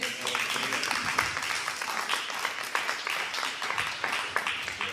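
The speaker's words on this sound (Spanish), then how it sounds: "Dale un aplauso a Él." A church congregation claps during a Christian sermon, dense ongoing applause with some sharper individual claps, filling the room at a steady level without clear talk.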